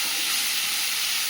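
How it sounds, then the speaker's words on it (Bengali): Bitter gourd slices frying over a very low gas flame in a home kitchen, a steady close hiss of oil sizzling without a break. "ভালো করে নাড়িয়ে নেবো আর গ্যাসটা একদম লো আঁচে দিয়ে উচ্ছেটা ভেজে নেবো"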